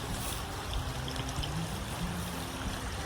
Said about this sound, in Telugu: కానీ వాటర్ ఫ్లో బాగుంది